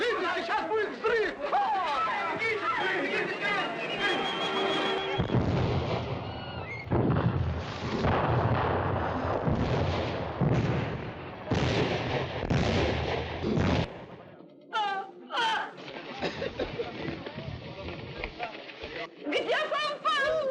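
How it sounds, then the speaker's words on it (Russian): Booming explosions and gunfire from the battle scenes of the 1952 French film Fanfan la Tulipe, set in 18th-century France, come as loud dense bursts with crowd chatter and shouting mixed in. "Сейчас будет взрыв!"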